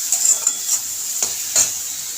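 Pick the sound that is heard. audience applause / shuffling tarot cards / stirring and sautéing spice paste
stirring and sautéing spice paste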